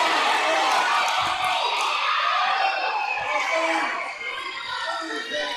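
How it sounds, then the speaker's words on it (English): Fight-night crowd at a combat sports event roaring and cheering loudly and continuously, a dense wall of shouting voices with whoops rising and falling throughout. "The crowd's going absolutely insane anytime Zane throws anything."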